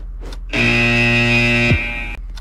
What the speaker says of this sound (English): when that alarm goes off, my desktop audio goes into the yellow